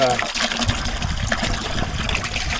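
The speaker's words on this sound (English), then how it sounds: "You notice putting water in there first." Water pours steadily into a hydroponics container, a continuous trickling splash with a faint voice underneath.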